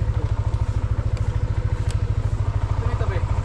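A motorcycle engine idles close by with a steady, rapid low thumping that runs the whole time. The setting is outdoors near a mountain waterfall in Pakil, Laguna.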